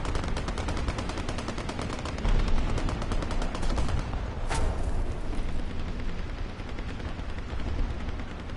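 Gunfire in the War Thunder game during a realistic battle in Africa, a steady rattling burst of rapid shots in the first half, then a single sharp crack followed by a rumbling, lingering wash of distant firing.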